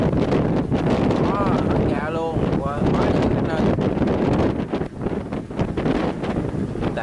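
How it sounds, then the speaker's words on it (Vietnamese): Wind and heavy rain buffet an anchovy fishing boat at sea, a rough, gusting roar of wind noise against the microphone throughout, while people talk loudly over it. "trời đang mưa lâm gầm đó bạn đó tốc độ phải nói là kinh khủng thiệt"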